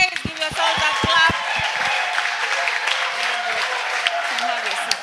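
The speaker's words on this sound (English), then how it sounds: "Give yourselves a clap." Seated audience at a camp session clapping, starting with a few sharp claps close by and then spreading into a looser, moderate patter while people talk over it.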